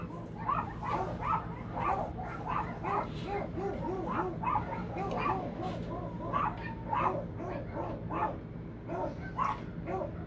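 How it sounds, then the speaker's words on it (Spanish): Several dogs bark and yelp agitatedly after people arrive, a dense, continuous chorus of overlapping barks with whimpers mixed in, moderately near and steady throughout. "esos perros están porque llegaron gente, por eso están alborotados"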